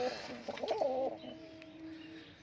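A pigeon in a loft gives one brief, faint cooing call, followed by quieter low murmurs.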